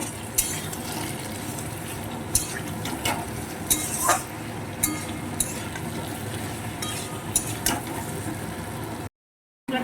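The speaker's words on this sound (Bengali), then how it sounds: "এবার নাড়িয়ে চাড়িয়ে একটু কষিয়ে নেব" Ginger garlic paste with cumin powder frying and being stirred in a pan, a steady close sizzle broken by repeated clinks and scrapes of a spoon against the metal. Near the end the sound drops out briefly.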